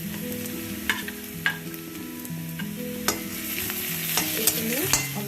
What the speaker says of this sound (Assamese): এতিয়া আমি ইয়াতে আদা নহৰুৰ পেষ্টখিনি দি দিম